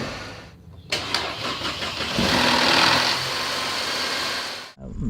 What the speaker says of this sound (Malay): Dia bunyi rattle, timing chain, sprocket dalam tu lah